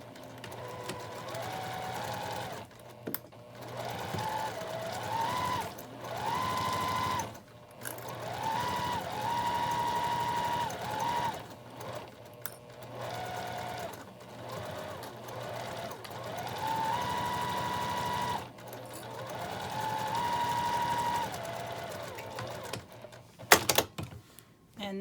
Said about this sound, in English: we're just going to sew around with a 1/4 inch seam all the way around the top